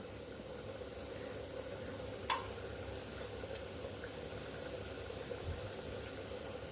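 A steady hiss of spices, including asafoetida, sizzling in hot ghee, with a couple of faint pops and clicks, no voices.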